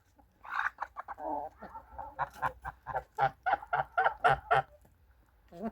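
A rare breed of geese on a private farm honks in a run of loud, close calls, irregular at first and then a rapid rhythmic series, with other poultry nearby and no talking.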